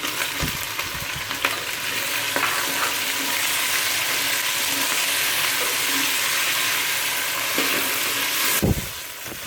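Sliced red tomatoes for a spinach and potato curry fry loudly and steadily in a pan, a continuous close sizzle broken by a few stirring knocks and no speech.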